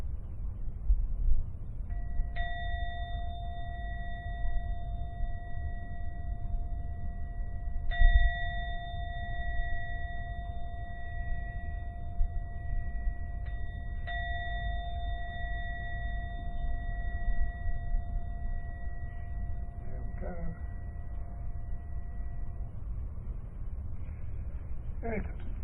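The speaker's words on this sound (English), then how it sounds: "I'm now going to ring the bell 3 times." A meditation bell or gong struck three times at a Buddhist meditation session, each strike a clear ringing tone with long sustained overtones that slowly decay, spaced several seconds apart over a low background hum.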